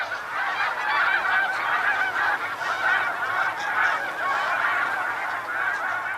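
A dense flock of snow geese honking continuously, many overlapping calls forming a loud, steady clamor with no talking.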